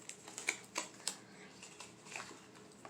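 Faint crinkly scratches and small taps as tape is picked and peeled from a boxed cosmetics product, a handful of light clicks and rustles spread irregularly, quiet and close.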